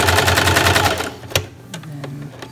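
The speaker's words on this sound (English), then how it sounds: "we are just gonna run a straight stitch and a zigzag along the side" Domestic sewing machine running a straight stitch then a zigzag along the side of a newborn baby sleeper, a steady rapid loud whirr for about a second before stopping, followed by a few faint clicks and handling sounds.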